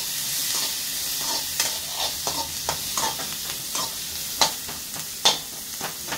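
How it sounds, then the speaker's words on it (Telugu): A large onion frying with cumin in hot oil, a steady sizzle broken by repeated spatula scrapes and stirs against the pan, close and fairly even throughout. "పెద్ద సైజు ఉల్లిగడ్డ వేసుకొని ఫ్రై చేసుకోవాలి."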